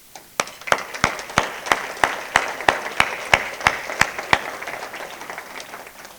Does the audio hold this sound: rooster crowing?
no